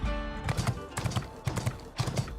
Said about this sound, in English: Sounds like horse hooves.